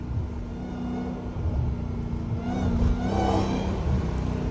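A Dodge Hellcat's engine revs up at night in the city, a sustained droning whine that climbs in pitch with a rising rumble, heard from inside without talk.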